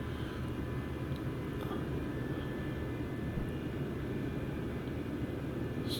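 Business jet engines in a Microsoft Flight Simulator flight around the Bahamas give a steady, broad low rumble that drones on unchanged and fairly loud throughout.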